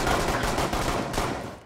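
Rapid automatic gunfire in the tactical shooter video game Rainbow Six, a loud, dense burst of shots running continuously and tapering slightly at the end, with no voices over it.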